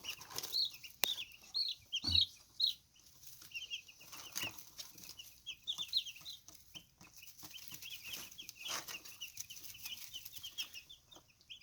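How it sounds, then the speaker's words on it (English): Many small Cornish Rock meat chicks peep in high, rapid chirps, a busy chorus close by with occasional soft rustling and scratching. "Now these are Cornish rock chicks."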